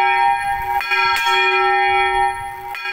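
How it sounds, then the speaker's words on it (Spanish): Church bells in Rome ring loud and sustained, with a bright, rich tone whose overlapping partials hum continuously and a few fresh strikes land through the sound. "mi proyecto va sobre las campanas de la ciudad de Roma"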